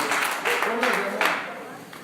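A church congregation at a worship service applauds, sustained crowd clapping rising and falling with a voice speaking over it.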